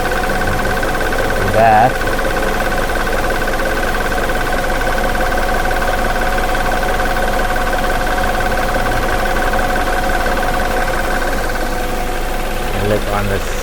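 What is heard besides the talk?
car engine shaking at rough idle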